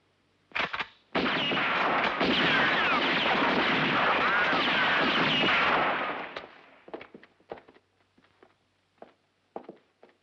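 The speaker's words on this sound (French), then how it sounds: "Fais sauter la serrure. Tire." A gunshot blasts open a lock in a 1971 western: sharp cracks open into a long, loud roaring burst lasting several seconds, then fading into scattered thuds and clatter.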